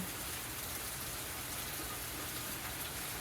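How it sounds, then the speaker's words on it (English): Steady rain falls outside a porch, a dense, even hiss of drops on surfaces that runs unbroken from start to finish, with no voices. "Welcome to the rain."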